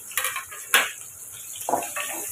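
Onions and curry leaves are sautéed in a pan, heard as a few sharp metallic scrapes and clanks of a spoon stirring against the metal over a faint sizzle; no one speaks.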